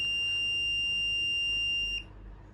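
Buzzer alarm on an ultrasonic distance-sensor circuit, a steady high-pitched electronic tone held for about two seconds and then cut off, leaving only faint background hum.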